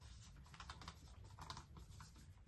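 Fingers tap quickly on a computer keyboard in a quiet room, a faint, close, uneven patter of clicks with no voices.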